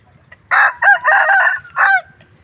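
A ten-month-old fighting rooster crows loudly and close up in several bursts, with a short cluck between calls and a quiet farmyard behind.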